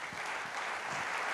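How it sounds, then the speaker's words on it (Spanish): A church congregation claps in brief, fairly faint applause lasting only a moment, an even patter of hands with no voices over it. "Dale un aplauso a Dios."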